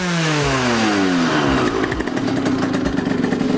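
A Derbi moped with a PWK carburetor runs loud and close, its engine note sliding downward as the revs fall. It settles into a rough, rapid two-stroke idle with steady pulsing.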